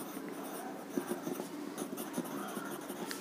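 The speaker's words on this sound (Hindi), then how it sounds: "तो लिखेंगे यहाँ पे" A pen writing on paper during a Class 10 statistics maths lesson, a close scratching with short strokes and small taps, steady and fairly quiet, without speech.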